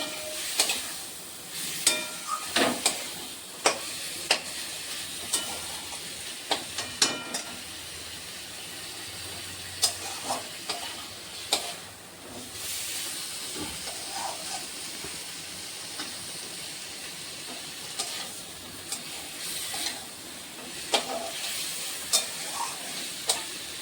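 Lata fish being stirred in a hot frying pan for a steamed bhapa dish, giving a steady sizzle and hiss broken by frequent sharp scrapes and knocks of the spatula against the pan, close and fairly loud with no voices.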